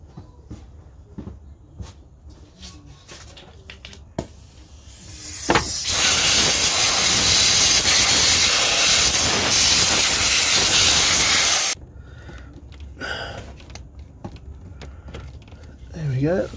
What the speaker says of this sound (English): we'll go get the air compressor, blow that off